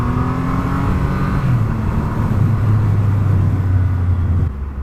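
Triumph Rocket 3 R 2500cc motorcycle, its big engine revving on throttle while reversing up a hill: a loud, steady, throaty drone whose pitch dips and climbs, close to the listener and sustained for several seconds before cutting down.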